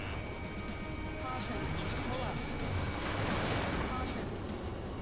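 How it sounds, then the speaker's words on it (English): Missile impacts and explosions in the combat flight game Ace Combat 7, heard as a continuous roar of jet and blast noise with deep rumbling booms, while voices talk over the action. "Missile!"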